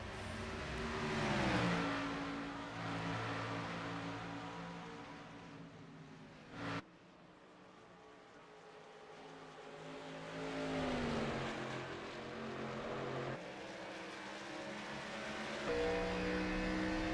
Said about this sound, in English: He's going to try and roll the throttle, maybe get a run on Mike this time out of turn 2